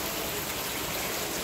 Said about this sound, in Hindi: इधर बहुत बारिश हो रही है, अभी बहुत ज़्यादा से ज़्यादा बारिश हो रही है